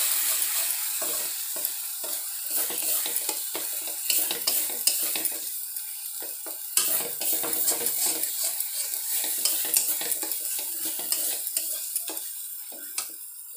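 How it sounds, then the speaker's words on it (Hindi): In a pan, a spoon stirs and scrapes a masala of curry powder, red chili powder and coriander powder being fried, over a continuous hissing sizzle with frequent clinks and scrapes and no talking. "सारे मसाला को हम 2 से 3 मिनट भूनेंगे।"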